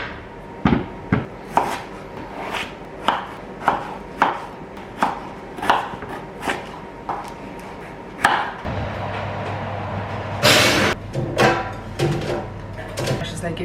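Potatoes are chopped on a board for potato wedges, a steady run of close, sharp knife strikes about every half second, followed by a low hum and a brief louder clatter near the end.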